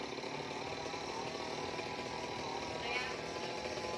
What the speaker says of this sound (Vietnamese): Đó, giật máy cưa mấy cái tàu lá cho rớt xuống.